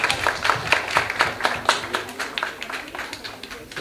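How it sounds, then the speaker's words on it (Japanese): Audience clapping at a live band concert in a steady patter of many hands, moderately loud, fading slightly toward the end with a low murmur beneath. "拍手"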